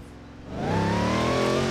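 A rear-mounted car engine in Forza Horizon 4, heard from a hood camera view, starts low and then rises into a clear, steady revving drone that grows louder as it accelerates.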